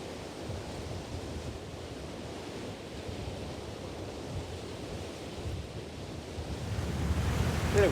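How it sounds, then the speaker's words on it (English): Steady surf rolls in at a beach near a campsite in Byfield on a windy mid-October day, with constant wave wash and gusts buffeting the microphone that swell louder near the end. "A little windy today."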